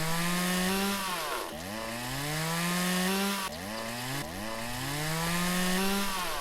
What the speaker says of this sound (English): we got the better chainsaw, so that's making it all a bunch better